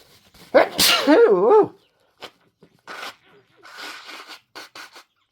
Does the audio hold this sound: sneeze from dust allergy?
yes